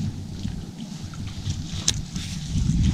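A kayak is paddled across cold winter water near an island, with soft splashes and dips under rushing wind buffeting the microphone, the sound staying close and fairly loud throughout.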